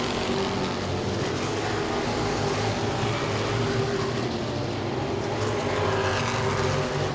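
Modified race cars roar around Langley Speedway in a continuous, loud, dense engine drone with overlapping cars and no break in the noise.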